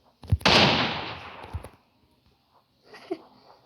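Gunfire in the battle royale game PUBG: one loud, close shot with a long rumbling decay, followed by a softer, more distant burst a moment later.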